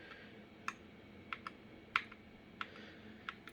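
Sparse key presses on a Corsair K100 keyboard, a handful of sharp, fairly quiet clicks spaced irregularly over a soft background hiss, with no talking.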